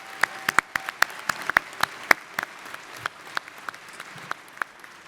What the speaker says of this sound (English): Clap. This is a big deal.